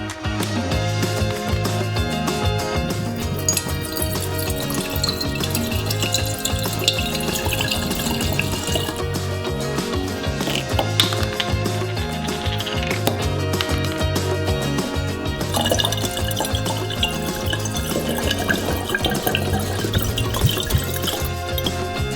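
Spirit from two bottles pours into a glass flask in a long, steady stream of gurgling, splashing liquid, heard close up and continuous without talk.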